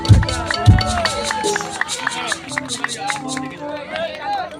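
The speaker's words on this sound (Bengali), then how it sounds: "একবার জোরে হাতে তালি হোক সবাই মিলে" A crowd at a large village variety show for Annapurna Puja claps together, lively and fairly near, mixed with cheering, chatter and music-like tones throughout.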